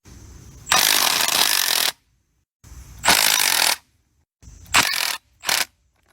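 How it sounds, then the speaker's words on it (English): An M12 stubby impact wrench with a 3/8 drive chrome socket hammers off the collar bolts on a John Deere H tractor, in loud close bursts: two long runs, then two short ones, with silence between them. "M12 stubby will take off these collar bolts on the John Deere H"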